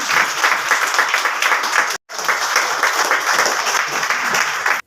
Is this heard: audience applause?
yes